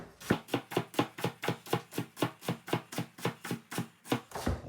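A knife chops through spring greens on a cutting board in a fast, steady run of about twenty close, crisp strokes, with no talking.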